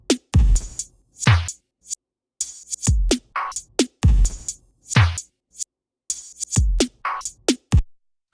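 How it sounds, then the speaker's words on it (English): A processed music loop bounced in Logic Pro, with effects baked in, plays punchy bass-heavy hits and sharp transients in a repeating two-bar pattern with abrupt gaps, loud and close. "So now my loop sounds like this and the effects that I have selected have been baked in to this file."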